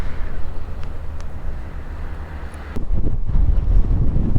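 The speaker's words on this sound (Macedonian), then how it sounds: "дува многу и дури идев наваму по пат, дуваше премногу" Strong wind buffets the microphone at a seaside beach in Alanya, a steady roaring rumble that surges louder and gustier toward the end, with no voices.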